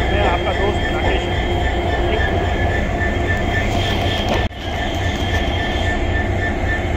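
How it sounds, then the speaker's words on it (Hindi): The Jammu Tawi–Jodhpur superfast express train departs platform 1 at Bikaner station, filling the clip with a loud, close, continuous rumble of wheels and carriages and a brief dip near the end. "ट्रेन अपने द्रुत गति से निकलते हुए प्लेटफॉर्म नंबर 1 से 19226 जम्मू तवी जोधपुर एक्सप्रेस"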